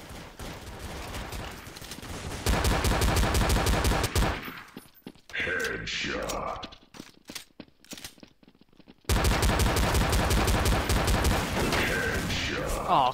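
Rapid automatic gunfire in Counter-Strike: Source: loud, dense bursts of shots that break off into scattered pops and game noise midway, then a long sustained barrage. No one speaks.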